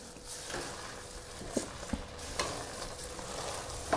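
Sugar being stirred into carrot halwa in a pan: a soft scraping stir with a low sizzle, a few sharper clinks of the spoon against the pan, no voices.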